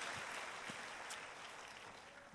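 A church congregation applauds during a sermon, a dense, steady wash of clapping that fills the room and slowly fades, with no voices over it.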